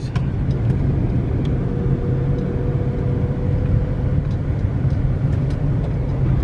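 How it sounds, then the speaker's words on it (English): Car traffic rumbles past outside the Air and Space Museum, a continuous low engine drone heard from inside a vehicle with a faint steady tone, occasional light clicks and no clear breaks. "Cars."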